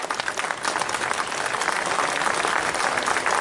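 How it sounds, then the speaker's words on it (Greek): An audience applauds the young musicians of a youth orchestra and their conductor at a concert, giving a sustained, dense wash of clapping from many hands at an even, fairly loud level throughout. "να χειροκροτήσουμε για μια ακόμα φορά τους νεαρούς μουσικούς της ορχήστρας"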